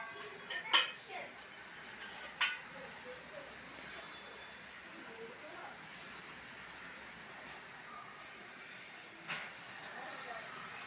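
A stove is lit in a home kitchen before cooking spicy chicken thokku: two sharp ignition clicks near the start, then a low, steady burner hiss that runs faintly underneath with one more soft tick later on.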